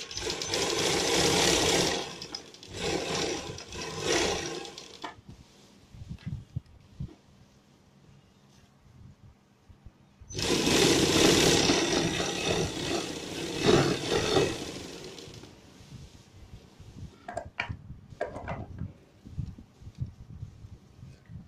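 A sewing machine stitches a coat collar in two long, loud running bursts, with quieter handling of the fabric between them and a few short taps near the end.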